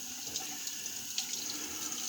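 A tap runs to rinse a 1960 Gillette Fatboy razor, a steady close hiss of water splashing into a sink for about two seconds with small splatter bursts and no voices.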